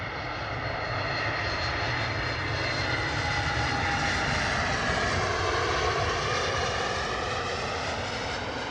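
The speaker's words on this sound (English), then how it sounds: "Ryanair coming in from Malaga, looking beautiful, Boeing 737." A Ryanair Boeing 737 landing at Bristol Airport from Malaga gives a steady, loud jet engine roar with a slowly shifting whine as it passes.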